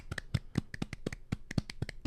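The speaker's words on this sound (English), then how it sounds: "Give a little round of applause." A small round of applause from just a few people, with close, quick, uneven hand claps.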